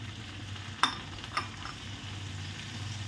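Ground spices mixed with salt fry in hot oil, giving a low, soft sizzle broken by two sharp utensil clinks against the pan.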